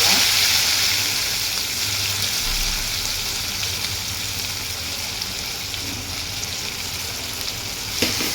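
Chopped onion frying in a pan gives a loud, steady sizzle that runs unbroken throughout, with no voices over it.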